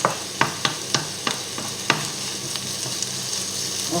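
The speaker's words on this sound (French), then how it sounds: "On fait revenir nos oignons." Onions frying in a pan sizzle with a steady hiss while a utensil stirs them, giving sharp scraping knocks in a quick irregular rhythm at first that thin out later.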